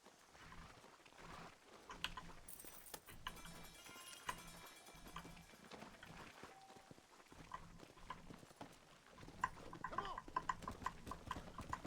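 Horse hooves clip-clop in the Western video game Red Dead, a faint rhythmic trot running under soft game ambience and music.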